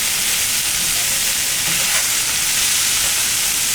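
Potatoes and cabbage sizzle steadily in oil in a frying pan, a dense, continuous crackling hiss that holds at an even level throughout with no voices.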